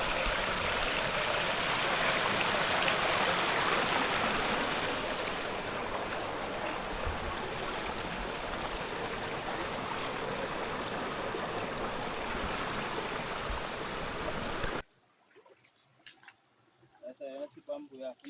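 A river stream flows through the Jamaican hills, a broad steady rushing wash lasting about fifteen seconds before cutting off to near silence with faint scattered sounds.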